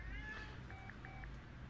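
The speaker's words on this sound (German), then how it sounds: "Ich muss die Katze kurz rausnehmen." A cat meows indoors in a few short, faint calls beneath a steady background hum.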